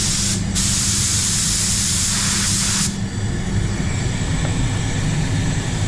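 A continuous hissing spray from a paint gun applying basecoat and clear to car doors at about 2.7 to 2.8 bar, loud and close, with brief bursts and pauses at the start before settling into a steady rush.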